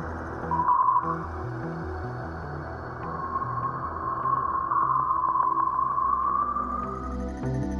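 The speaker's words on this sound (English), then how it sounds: "There, it still senses the shock waves emitted by the sun," An eerie electronic drone of solar shock waves recorded in interstellar space, a rising and falling whistling tone over a pulsing low rumble, steady and continuous throughout.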